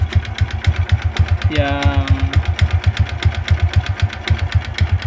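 A motorcycle engine runs close by with a steady, fast rhythmic thumping pulse, loud and even across the whole stretch, while a voice speaks briefly over it.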